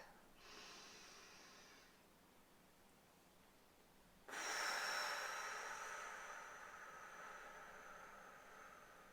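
Slow, deep human breaths heard up close: a soft drawn-in breath, a pause, then a long, louder, airy exhale that slowly fades, with no speech.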